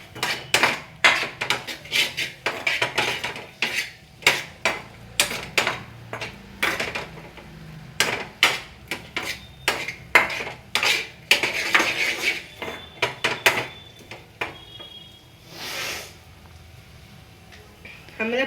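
A spoon scrapes and clatters against a metal cooking pan in quick, irregular strikes as pepper paneer is mixed, loud and close, with short pauses between bursts of clanking.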